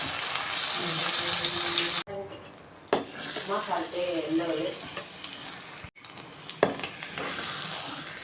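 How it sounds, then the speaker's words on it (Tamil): Ground gongura greens fry in a pan over a low flame while being stirred, giving a soft, steady sizzle broken by scraping stir strokes and a few abrupt clatters, with a faint voice partway through. "ஸ்டவ் ஸ்டிம்மில் சிம்மில் வச்சு நல்லா கிண்டி விட்டுட்டே இருக்கணும்"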